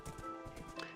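Horse hooves clip-clop in a modded Minecraft-style game as the horse travels across a bridge, a steady run of close, fairly loud hoofbeats over a busy background.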